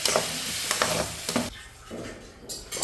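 Grated coconut is stirred into a snake gourd stir-fry in a pan, giving a few close scraping stirs over a soft sizzle, then a brief quieter pause before another stroke.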